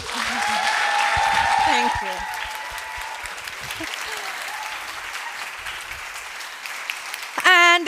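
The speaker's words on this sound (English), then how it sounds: "she deserves a big round of applause too" Audience applause at a women's investment summit in the Nordics, loud and sustained for about two seconds and then gradually fading while a voice speaks over it and gives brief thanks.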